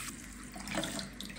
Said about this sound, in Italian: Ora lo ricopro con acqua.